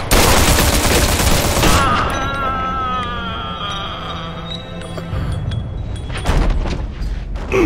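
Gunfire in the video game Mafia II: loud, dense shots and booms open the clip, then fade under ringing tones and game ambience before a few louder bursts return near the end.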